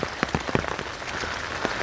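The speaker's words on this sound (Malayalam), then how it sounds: "നല്ല മഴയും പെയ്യുന്നു" Heavy rain falling in a forest, a dense steady hiss with irregular louder splatters of drops hitting nearby surfaces, close and constant, with no voices.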